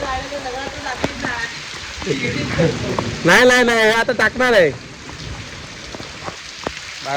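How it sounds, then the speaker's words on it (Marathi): Heavy rain pours on a Konkan village during the first rains, a dense steady patter throughout while people talk nearby over it. "काय पाऊस पडतोय"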